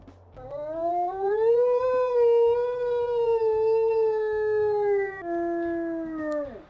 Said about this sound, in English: And her secondary howl is a little bit more wavery.